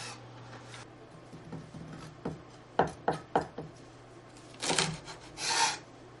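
Fresh green beans have their ends trimmed with a knife on a cutting board, giving a series of sharp close chops followed by two longer rubbing scrapes.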